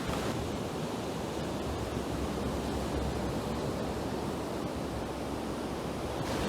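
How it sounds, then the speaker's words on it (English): Ocean surf at Cocoa Beach, Florida, late in the afternoon, a steady, dense roar of breaking waves with some wind rush, loud and continuous. "This is the kind of waves that we're getting."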